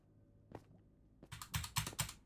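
Computer keyboard keys are pressed during a Minecraft session, a couple of isolated clicks followed by a quick run of several loud, close clacks.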